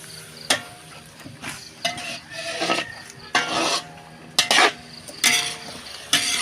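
Potatoes and carrots are stirred in a metal cooking pot, a series of scraping, rasping strokes in an uneven rhythm with quiet gaps between, fairly close.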